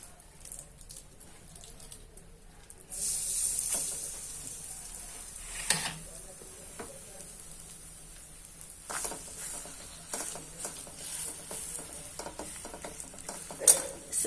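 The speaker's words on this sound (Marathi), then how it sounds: "कढई गरम झालेली आहे आणि एक जाडसर थालीपीठ आपण लावूया." A thick thalipeeth cooks in a hot kadhai with plenty of oil underneath, giving a steady, close sizzle that swells after a quiet start, with occasional scraping and clinks from stirring.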